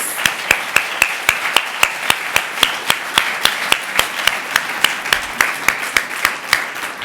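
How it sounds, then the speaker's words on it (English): Audience applause for roundtable participants at a joint gender-equality conference in Brussels, sparse individual claps in an even, fairly quick rhythm, close and distinct rather than a dense crowd roar. "please let us give our wonderful roundtable participants an applause"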